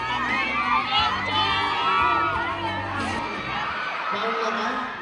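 A dense festival crowd at Kadayawan Festival 2025 cheers and shrieks steadily toward an on-stage performance, with high-pitched shouts and whoops layered throughout and no pauses.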